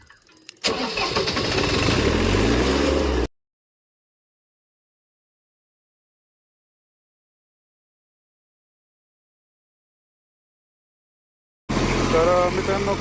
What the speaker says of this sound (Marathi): चालू करूया ट्रॅक्टर.